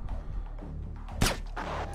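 A single sharp gunshot cracks out in the video game Splinter Cell, loud and abrupt against a steady murmur of game ambience.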